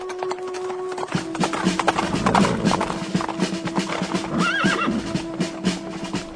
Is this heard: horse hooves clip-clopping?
yes